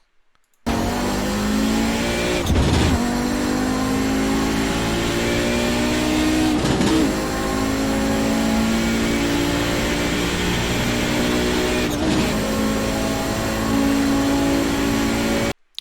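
An Audi 90 GTO race car engine in iRacing at Road America climbs through the revs under throttle, a loud, steady, buzzing drone that rises in pitch, broken by a few quick gear shifts.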